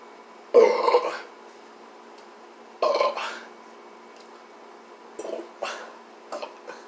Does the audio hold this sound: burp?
yes